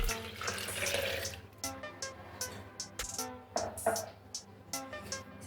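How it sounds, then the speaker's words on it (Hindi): Milk is poured onto almond paste in a container, giving a short liquid splash followed by gurgling and a few drips. The sound is close and fairly quiet. "इसके अंदर दूध डालेंगे"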